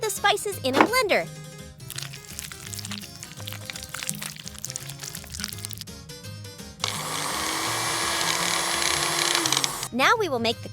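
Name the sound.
blender pureeing spices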